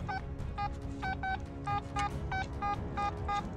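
A metal detector sweeping mulched forest ground at a former WWI and WWII airfield gives repeated short electronic double beeps in a steady pattern. They sound loud and close over a low rumbling background.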